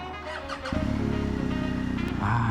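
A BMW R1250GS Adventure motorcycle's boxer engine idles, then is blipped into a strong rev that holds loud and close, with a second rise at the end.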